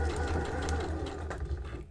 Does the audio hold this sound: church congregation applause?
no